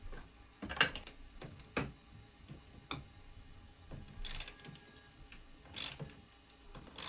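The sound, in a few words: open end wrench removing nuts from bearing frame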